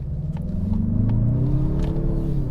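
A 2025 Mazda 3 Turbo hatchback with all-wheel drive accelerates hard, heard from inside the car. The engine's loud rising drone climbs steadily in pitch over a constant road rumble.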